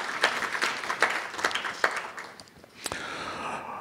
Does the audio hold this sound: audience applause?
yes